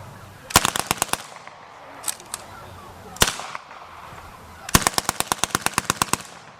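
Bursts of automatic fire from MP40 submachine guns at a war weekend reenactment demonstration, with a rapid rattling volley, a few isolated single shots, then another long sharp burst, loud and outdoors.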